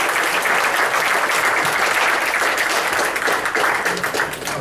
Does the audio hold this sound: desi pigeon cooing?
no